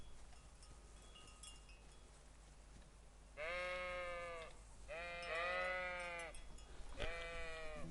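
Sheep in a video game give three clear bleats, each lasting about a second, spaced a few seconds apart over a faint, low background hum.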